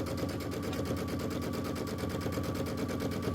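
A sewing machine pieces two patchwork fabric pieces together for a Kimberbell Star Spangled Beauty flag block, stitching in a steady, rapid, evenly pulsing run that stays loud and close throughout with no talking.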